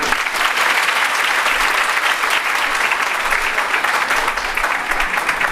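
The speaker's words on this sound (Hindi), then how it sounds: "तालियां बजाइए।" An audience at an International Women's Day celebration held by a railway workers' union women's wing claps steadily and loudly for several seconds, a dense, continuous wash of applause.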